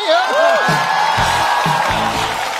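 Audience cheering and whooping welcome a comedian onto the stage at a Chinese stand-up comedy contest. The crowd sounds loud and close, with a voice rising over it, in a short burst.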